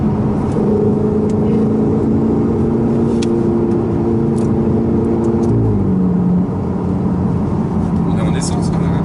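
A petrol car on a road-driving course accelerates with a rising engine drone heard from inside the cabin, the pitch climbing then dropping at a gear change, while people talk over it.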